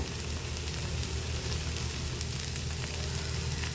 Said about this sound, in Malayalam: വളരെ കുറച്ച് കുരുമുളക് പൊടി എല്ലാം ചേർത്ത് നല്ലതുപോലെ ഇളക്കി വഴറ്റിയെടുക്കണം.